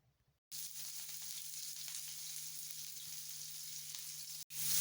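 Large onions drop into hot oil in a heated pan and set off a loud, steady sizzle that holds evenly for about four seconds and then cuts off abruptly.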